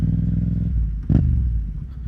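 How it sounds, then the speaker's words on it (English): A Yamaha XSR700 motorcycle idles with a throaty, pulsing exhaust burble, then gives a single short blip of the throttle before settling back into a steady, fairly close rumble. "Oh, I just love the exhaust."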